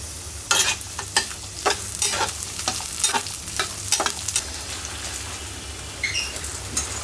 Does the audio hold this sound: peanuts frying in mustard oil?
yes